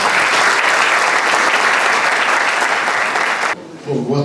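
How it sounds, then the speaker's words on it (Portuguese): Loud, dense applause from a conference audience goes on steadily, then stops abruptly and a voice starts speaking in Portuguese. "Uma salva de palmas"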